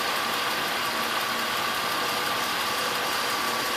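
Pontiac Grand Am with a 3.4 liter engine idling after a power steering pump replacement: a steady, smooth mechanical hum with a faint whine, close by and unbroken, with no talking.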